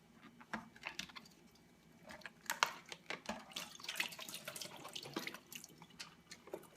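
Water draining from a cut tofu package in a kitchen, an irregular stream of drips and splashes with spattering bursts, close and fairly quiet, with no voices.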